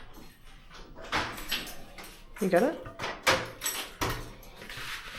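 Indoor door opened and closed, giving several knocking and latching thumps with a brief squeak midway, while people talk over the handling.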